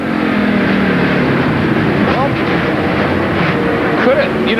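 Onboard engine of a 2003 NASCAR Winston Cup car at Charlotte: a loud, steady, continuous roar heard close from inside the car, with gritty rumble throughout.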